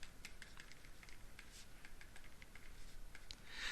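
Quick, irregular clicks of fingers typing on a computer keyboard, quiet and close, with a brief cluster of keystrokes near the end.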